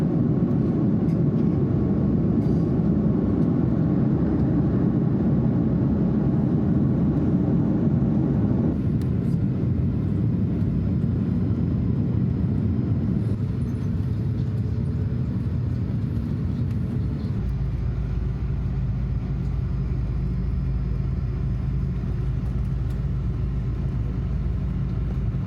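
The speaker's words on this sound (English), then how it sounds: "I will film the takeoff" Steady, loud engine roar and deep rumble inside an airliner cabin during a night-flight takeoff, continuous throughout and shifting in tone twice as the plane builds speed and climbs, with no talk.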